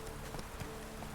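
Horse hooves clop at a quick gallop in The Witcher 3, a soft, fast rhythm of muffled hoofbeats under a constant background hum, faint and brief with no voices.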